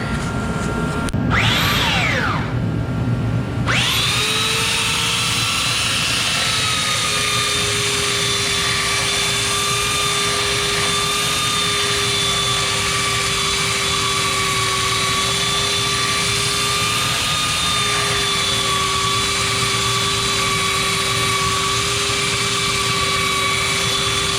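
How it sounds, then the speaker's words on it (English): Belt sander on metal, a brief handling clunk and rising whir as it spins up, then a loud, steady whine with a sustained tone lasting some twenty seconds, no talking. "and then I get the belt sander out."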